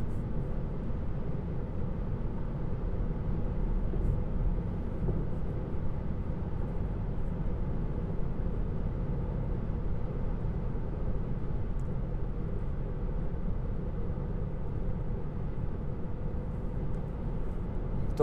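Steady broadband road and wind roar fills a car interior cruising at 130 km/h on winter tyres, a constant low rumble with no voices.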